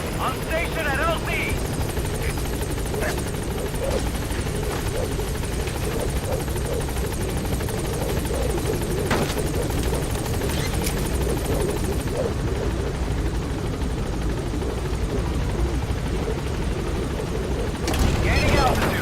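Support helicopter in Metal Gear Solid V: The Phantom Pain arriving at a landing zone, a steady loud rotor roar throughout that swells near the end, with radio voice chatter over it.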